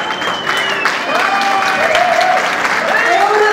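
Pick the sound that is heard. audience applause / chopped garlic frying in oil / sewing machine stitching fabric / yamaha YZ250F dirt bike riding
audience applause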